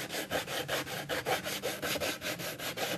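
Coarse 60-grit sandpaper scrubs hard across a slatted wooden planter being distressed for a rustic patina, in a fast, steady series of close, rasping hand strokes about five per second.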